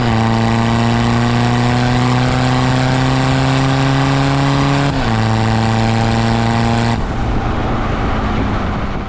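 A BMW 320d diesel engine revs up and holds steady, loud and close, with a brief pitch dip midway before the revs fall away toward idle near the end; no talking.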